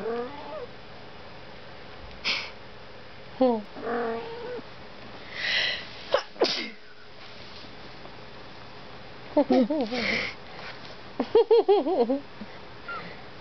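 A kitten gives several short, high mews and squeaky cries scattered among quieter stretches, close by, with people talking softly around it.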